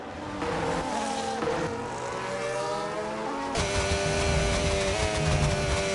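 McLaren Formula 1 cars lapping Silverstone in a racing video game, a continuous loud engine whine with rising and shifting gear tones, a brighter, harsher scream cutting in partway through.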